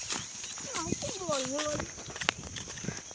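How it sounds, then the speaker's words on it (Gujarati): Buffaloes run on farm ground, their hooves thudding and clopping in quick uneven steps beneath loud nearby talking. "આ તો ભેંસો દોડી ભાઈ"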